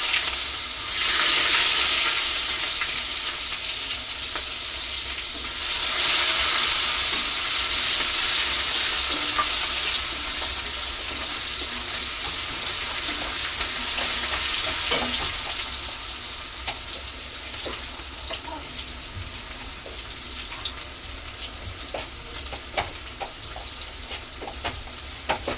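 Chopped onions hit a hot pan and fry with a loud, close, continuous sizzle that swells in bursts, then settles into a steady crackle with occasional small ticks. No voices are heard.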